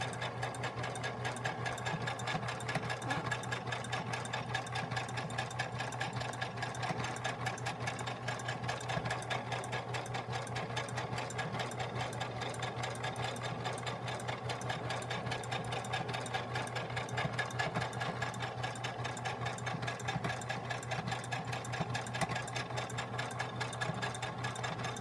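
Close sewing machine zigzag stitching lace trim onto a journal cover, a steady, continuous mechanical whir and rattle running without a break.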